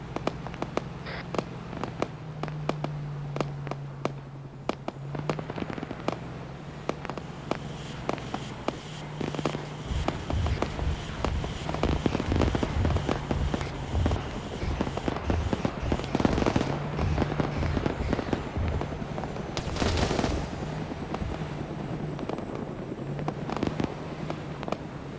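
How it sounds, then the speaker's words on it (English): A military helicopter firing its weapons, heard as dense rapid cracks and bursts of gunfire over a constant rotor drone, growing heavier midway with a loud blast near the end. "It's the helo firing."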